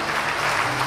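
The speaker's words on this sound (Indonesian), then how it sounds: "Tepuk tangan untuk para 9 crown yang lain Bapak Ibu." Applause from a seated audience at a business seminar, a steady, dense burst of many people clapping, fairly loud and uninterrupted.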